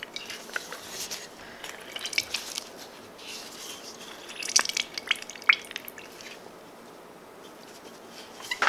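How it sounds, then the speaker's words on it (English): Lemon juice drips from a freshly squeezed lemon half, with faint irregular patters and small wet splashes close by and a few louder drops toward the middle. "slice the lemon in half. Squeeze out the juice."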